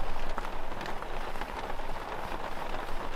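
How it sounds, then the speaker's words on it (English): Rain falls steadily outside a camping truck. The patter on the roof and surfaces makes a dense, close, continuous hiss with soft drumming, and no voices are heard. "I do like the sound of the rain though"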